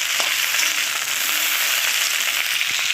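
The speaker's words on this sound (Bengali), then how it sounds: "ঢেঁড়সও ভেজে নেব।" Cut okra frying in hot oil with black cumin, a loud continuous hiss-like sizzle, close and steady, with a few faint pops and no talking.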